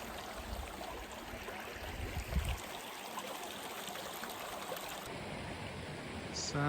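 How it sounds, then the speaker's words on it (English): Snowmelt water trickles steadily and close by while it is being filtered on a snowy morning in the mountains, a continuous soft babble with a faint thump partway through. "Filtering water here this morning."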